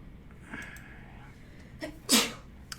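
A single sharp sneeze in a quiet room, close and loud, preceded by a couple of faint breaths and small noises.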